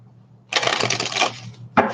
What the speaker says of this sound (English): let me shuffle these up really good.